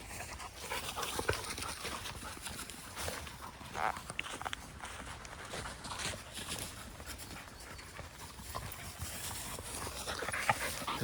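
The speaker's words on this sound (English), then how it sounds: "Oh, panting, here they come." Two Labrador dogs pant rhythmically as they approach on an autumn walk, fairly faint, with footsteps and rustling around them.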